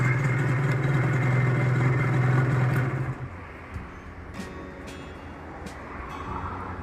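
A square-headlight Honda NSR motorcycle idles loudly up close, then its engine is switched off and cuts out, leaving quiet background with a few faint clicks.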